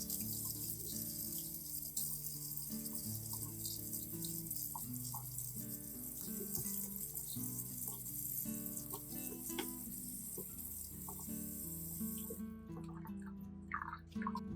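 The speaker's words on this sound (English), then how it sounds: "After 10 minutes, rinse again with clean water." Tap water running steadily while cilantro is rinsed, a constant splashing stream over soft background music, ending with a few drips after the water stops.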